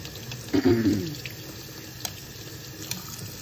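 Paint brush scrubbed under a running tap, water splashing briefly and loudly near the start, then a quieter steady trickle with a few small knocks.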